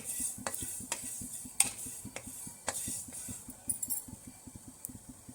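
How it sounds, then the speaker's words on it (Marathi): Fenugreek seeds dry roast in a kadhai, with quick rhythmic scraping and ticking as a spatula stirs them, plus occasional louder metal clinks against the pan. "मेथी पण छान भाजून घेऊ"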